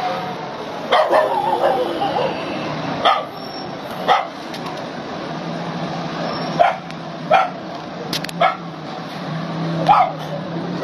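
A dog barks in repeated sharp, separate yelps spaced a second or two apart, moderately near, amid a low background rumble during a large fire in Tondo, Manila, with faint voices in the background.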